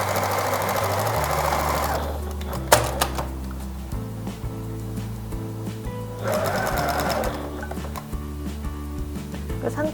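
A sewing machine stitches the pocket opening on thick corduroy fabric for banding pants, running in two steady bursts of rapid mechanical whirring separated by a quieter pause, close and loud.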